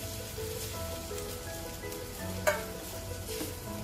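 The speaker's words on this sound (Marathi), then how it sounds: "आपण आता ही भाजी हलवायला लागेल, मिक्स करू सगळं" Cowpea pods are stirred in a pan over a soft sizzle, with scraping and shuffling sounds and one sharp clink of the spoon against the pan.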